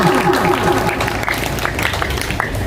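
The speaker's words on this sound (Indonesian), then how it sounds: "Tepuk tangan untuk kita semua" Students and guests at a morning school assembly applaud, dense clapping under a crowd murmur with tonal music or voices at the start.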